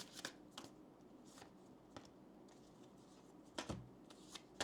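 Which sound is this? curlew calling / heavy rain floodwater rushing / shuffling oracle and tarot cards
shuffling oracle and tarot cards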